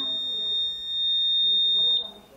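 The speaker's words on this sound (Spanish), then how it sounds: "y va a volver a sonar la alarma." A safe's security alarm buzzer, triggered by an incorrect password, drones a steady high-pitched electronic tone for about two seconds, then cuts off abruptly, with faint background murmur.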